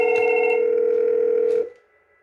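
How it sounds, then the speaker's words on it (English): A Fanvil X6U SIP desk phone plays a loud, steady tone for about a second and a half while calling another extension, then cuts off abruptly into near silence. "I'm going to call another extension."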